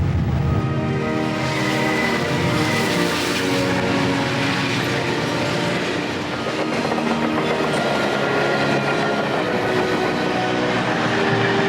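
Heavy freight train rolling slowly at about 35 mph through tight curves on a steep mountain grade, a steady, loud rumble of wheels and wagons with rhythmic clickety-clack throughout, no voices.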